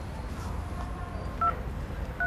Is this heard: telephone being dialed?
yes